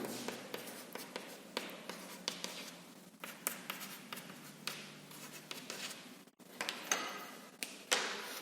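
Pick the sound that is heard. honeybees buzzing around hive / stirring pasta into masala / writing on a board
writing on a board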